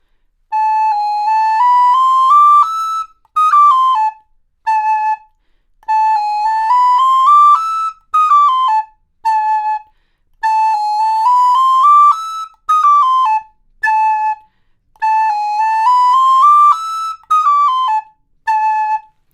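A recorder plays a riff from the folk tune The Bonfire, four repeated phrases of clear, bright piped notes, each ending in short staccato figures, separated by brief pauses and heard alone.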